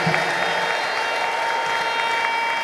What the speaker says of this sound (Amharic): እልልታና ጭብጨባ ለጌታ ስጡ